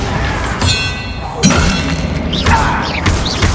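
In Hogwarts Legacy, an Expelliarmus spell lands with a sharp crackling burst amid ongoing game effects and magical chimes. A voice calls out over the action.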